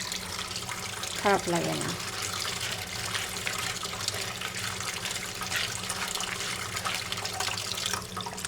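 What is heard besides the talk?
washing fish under running tap water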